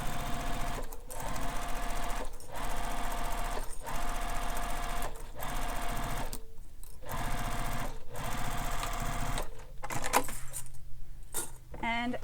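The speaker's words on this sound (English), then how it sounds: "I'm going to stitch this" A sewing machine stitches a bag panel in long steady runs, broken by several short pauses and a clattering stop near the end.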